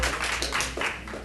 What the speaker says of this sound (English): That's my family clapping.